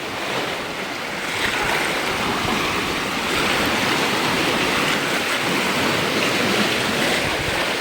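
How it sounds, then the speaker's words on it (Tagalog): Waves wash against the rocky shore of a Boracay beach, a continuous broadband roar of surf with wind, loud and steady throughout with no voices. "dahil yan sa ampas ng mga alon"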